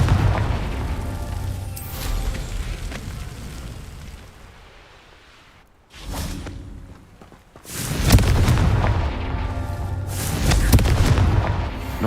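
In Hogwarts Legacy, the Confringo fire spell goes off as a heavy booming explosion that rumbles and fades, then a second loud burst of blasts and crackling fire fills the later half.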